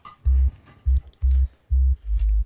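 A deep sub bass from a Serum synth plays five short, heavy notes in a bouncing rhythm, the last one sliding lower and held longer, alone with no other instruments or talk.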